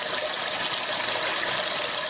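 A Japanese Sound Princess toilet device plays a recorded rush of flushing water, a steady, dense hiss of gushing water throughout with no talking.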